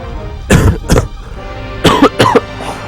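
Two pairs of sharp, harsh coughs from a person, close to the microphone, with short quiet gaps between them.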